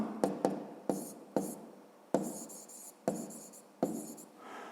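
Pen strokes scratch across paper while a fifth-grade maths exercise is worked out, a run of short separate bursts, each a sharp attack that tails off, close and fairly quiet with no talking.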